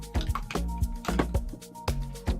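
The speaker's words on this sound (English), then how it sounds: "And now for our last final touch, we're gonna add some setting spray." Makeup setting spray is misted onto a face in a series of short, quick, soft hissing spritzes close to the microphone, irregularly spaced, with no talking.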